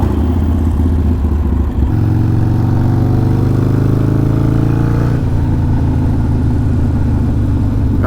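A motorcycle engine and exhaust rip down the street up close, loud and steady, with the pitch climbing as it pulls through the revs and then dropping back before rising again.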